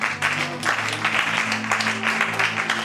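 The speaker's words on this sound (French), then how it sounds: "Si tu veux acclamer, tu acclames bien" A church congregation claps steadily in a continuous, moderately loud round of applause, with rhythmic bursts and a faint hum of voices beneath.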